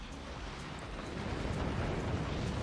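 A nuke detonating in the Forts RTS strategy game, a broad rumbling blast that swells and grows louder toward the end, with no talking.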